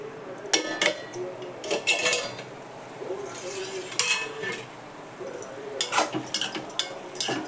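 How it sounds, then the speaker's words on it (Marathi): Metal pot lids and cookware clink and clatter in a home kitchen as a tight lid goes onto a pot of vegetables to steam, sharp scattered knocks at moderate level, with no one talking. "त्याच्यावर घट्ट बसेल असं झाकण ठेवते आणि वाफवू देते चांगले"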